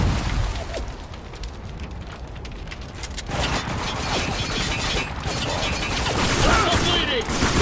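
Sustained cover fire crackles in Spec Ops: The Line, with a thick, continuous barrage of gunfire and clatter that grows denser and louder partway through, while voices shout underneath.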